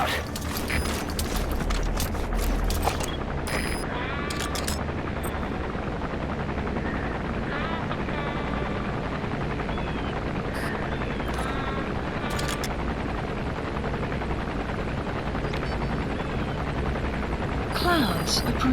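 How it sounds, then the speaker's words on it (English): An enemy helicopter gunship in Metal Gear Solid V: The Phantom Pain drones loudly with a continuous rotor roar, with bursts of gunfire and voices over it. "That's an enemy gunship."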